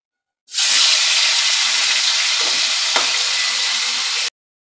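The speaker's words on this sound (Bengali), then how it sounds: "চিংড়ি মাছটা প্রথমে আমি ভেজে নেব।" Shrimp sizzle in hot oil in a pan, seasoned with salt and turmeric, a steady loud hiss that starts abruptly and runs unbroken for several seconds before cutting off.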